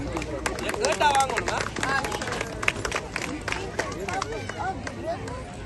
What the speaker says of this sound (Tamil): எங்கே உங்கள் கரகோஷம்?